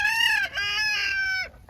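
Chickens, including a Sussex hen, call during molting season with two drawn-out, loud, near squawking clucks back to back.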